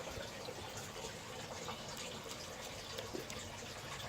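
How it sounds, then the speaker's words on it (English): Running water with steady gushing and splashing as kale roots are rinsed to wash off dirt in a greenhouse, continuous and close throughout with no talking. "I'm going to wash it off in some water"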